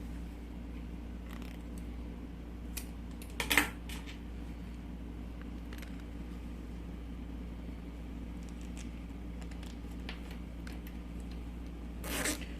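Zipper sliders are fitted onto the zipper of a fabric pencil case, producing a few quiet, brief rasping zips and clicks over a steady low room hum, with one stronger zip near the middle and another near the end.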